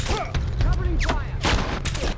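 Gunfire from the James Bond 007 Blood Stone video game: several close, loud bursts of shots crack out in quick clusters, with shouting voices mixed among them.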